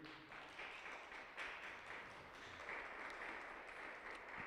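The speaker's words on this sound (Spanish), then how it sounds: "Dale ese fuerte aplauso a Jesús" Steady audience applause fills a church during a Spanish-language worship service, a dense, continuous wash of many hands clapping at moderate volume with no voices on top.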